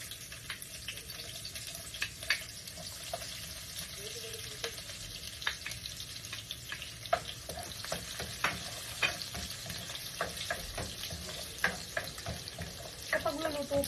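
Garlic frying in a pan as the first step of a chicken afritada, a steady close sizzle with scattered crackles and the clatter of stirring running throughout, with no talk.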